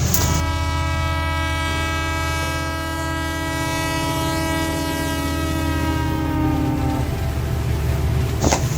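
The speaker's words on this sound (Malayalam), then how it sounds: "നമ്മുടെ മിനി ട്രെയിൻ" A mini train's horn in Lakshadweep sounds in one long, steady blast lasting several seconds, loud and close, over the rumble of the running train.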